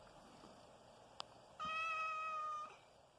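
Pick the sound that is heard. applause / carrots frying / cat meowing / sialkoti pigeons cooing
cat meowing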